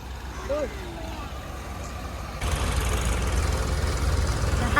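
A low tractor engine rumbles steadily in a rice paddy field during transplanting, growing louder and heavier partway through, with a brief voice early on.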